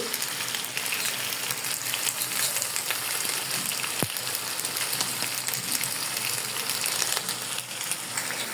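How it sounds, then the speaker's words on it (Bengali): Noodles and pasta tossed with spices in a hot pan give off a steady, dense sizzle of frying with soft stirring scrapes throughout, close and continuous, with no talking. "এখন আমি এটাকে লেড়ে সুন্দর করে ভেজে নেব"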